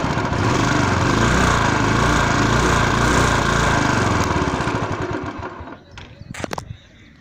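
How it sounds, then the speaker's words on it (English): A Royal Enfield Classic 350 motorcycle, BS4 Signals Edition, runs with a loud, steady engine roar that holds for about five seconds, then drops away to a quieter idle with a couple of short blips near the end. "So let me rev it."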